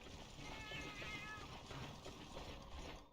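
A cat meows in the video game Monster Hunter Freedom Unite: a drawn-out, fairly quiet mew layered over soft mechanical clicking, fading out at the end.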